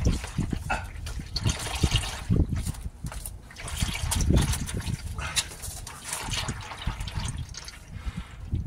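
Motor oil drains from a 1999 Porsche Boxster 986 during an oil and filter service, a continuous close trickling and splashing of liquid with some irregular surges and clunks.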